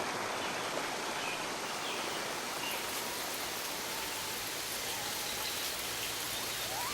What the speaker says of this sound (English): Spray from the waterfall,